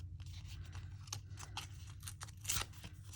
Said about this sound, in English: It rips easily because it's been embossed.